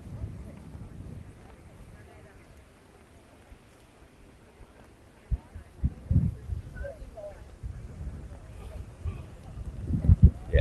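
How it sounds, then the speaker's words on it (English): Breezy outdoor wind buffets the microphone at a street march, starting as a low rumble and swelling into heavy, gusty thumps and bursts toward the end, with faint voices underneath. "it's just way too breezy, man"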